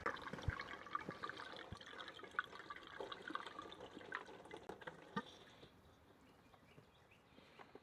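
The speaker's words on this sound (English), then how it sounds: "I'm gonna pour the gallon of water in that has the bleach" A gallon of bleach-mixed water pours through a funnel into a Roadtrek Zion RV's water tank, a very quiet, steady gurgling trickle that thins and fades over the last few seconds.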